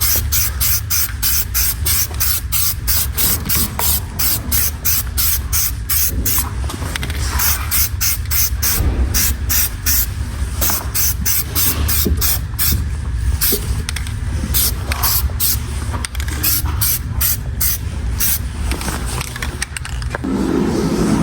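Spray paint applied in light coats, with repeated sharp bursts of hissing spray in quick succession, loud and close, with brief pauses between passes.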